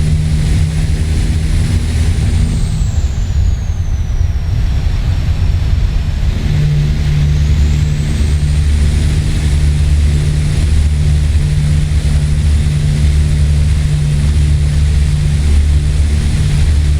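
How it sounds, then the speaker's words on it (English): Freightliner Classic FLD truck engine driving over Donner Pass in the California mountains in American Truck Simulator, a steady loud low diesel drone with a faint whine dipping and rising, continuous and alone. "You guys like the sound of the engine,"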